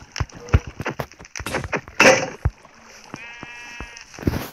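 Sheep bleat several times with wavering cries, mixed with short clicks and splashing sounds in a game setting; no talking.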